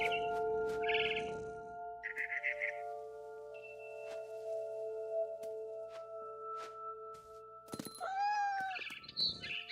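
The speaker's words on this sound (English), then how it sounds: "Then I heard chirping outside my window. It was a barn swallow going back to her nest." A barn swallow chirping in the game What Remains of Edith Finch. Short bright chirp bursts come early, then high whistling calls rise sharply near the end over a faint sustained tonal background.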